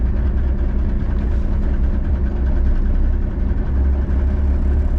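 A cabover semi truck's diesel engine idles close by, a loud, steady low rumble with a throbbing chug that continues unbroken, with no voices.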